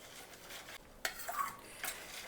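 Nutmeg and cardamom powder stirred into a jaggery-sweetened kharwas dessert mixture: soft scraping and clinking of a spoon against a bowl, a few brighter taps near the middle, close and fairly quiet with no talking.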